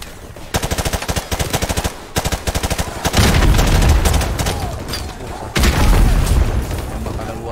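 M4 rifle sprayed in Call of Duty Modern Warfare, with loud rapid bursts of automatic gunfire in several short strings, then heavier continuous firing mixed with booms, all close and punchy.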